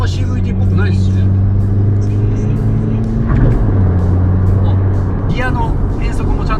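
A VAG sports sedan with a CVT, driven in manual mode, drones steadily from inside the cabin, its engine tone dropping once at a gear change, beneath continuous conversation.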